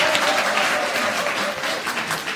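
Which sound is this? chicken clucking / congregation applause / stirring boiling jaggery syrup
congregation applause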